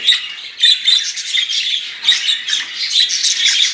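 Pet budgerigars (parakeets) chattering and chirping continuously, a dense stream of shrill warbles and squawks from several birds close by, with no talking.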